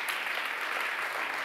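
Soft, distant audience applause for Carmen at an online talk on generative AI in university teaching, a continuous faint hiss of many hands without distinct claps.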